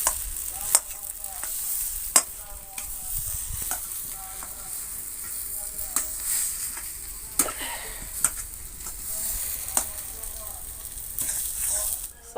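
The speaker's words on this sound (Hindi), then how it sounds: "अब इसी में हम जो मटर पीस के रखा था, अब इसी में डाल के अच्छा से भूंजेंगे।" Mashed green peas being roasted in a pan for green pea parathas, giving a soft continuous sizzle broken by sharp scraping strokes of a spatula at irregular intervals, close and moderately quiet.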